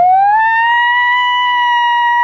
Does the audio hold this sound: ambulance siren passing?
yes